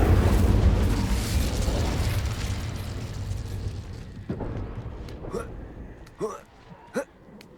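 An Incendio fire spell cast in Hogwarts Legacy erupts in a loud, whooshing burst that slowly fades, followed by a few short, sharp pops and crackles.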